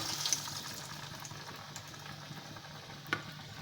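An egg slips into fully heated oil over medium heat and fries with a soft, steady sizzle. It stays faint and continuous, with a small crackle near the end and no talking.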